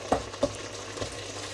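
Spices with frozen ginger garlic paste cubes frying in a pan for a yoghurt curry make a low steady sizzle, broken by a few short scraping knocks of stirring; no voices.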